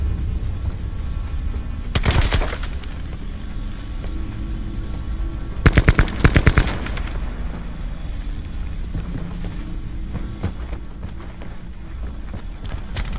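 Gunfire in the video game Call of Duty Black Ops 4 comes as two short bursts of sharp rapid shots over steady background game noise, moderately loud with no talk.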